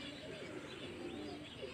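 A flock of pigeons coos and burbles continuously, a soft overlapping murmur at moderate distance with faint chirps mixed in and no speech.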